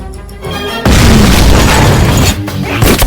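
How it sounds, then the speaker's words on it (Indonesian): A bomb blast in a film scene bursts in abruptly and loudly after a short quieter stretch, then a heavy boom and rumble roll on for a couple of seconds. "Vijay meledakkan sebuah bom untuk bisa masuk ke kamar Sakram lewat jalur belakang."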